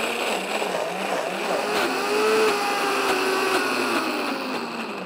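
A blender grinds almonds into almond butter in a kitchen with a steady, loud whirring drone that swells slightly midway and keeps running throughout.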